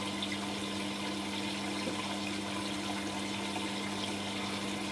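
A Hotpoint Aquarius WM12 washing machine filling with water, a steady hiss of inflowing water over a constant low hum, unbroken and close, no talk.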